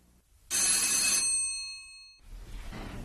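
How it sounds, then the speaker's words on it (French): A bell rings once in a bright sustained burst, then its shimmering tones decay and die away, followed by faint room noise and light shuffling. "On sonne."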